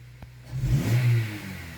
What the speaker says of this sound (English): Look how quickly, when I depress the pedal, it reacts